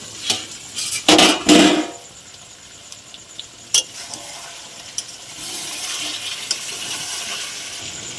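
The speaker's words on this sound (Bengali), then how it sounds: "তো মাংসটা চাপা দিয়ে কষে নেবো" Chicken pieces with potatoes and chicken masala being sautéed and stirred in a pan, loud scraping and clattering of a utensil against the pan early on, then a softer steady sizzle with occasional clinks.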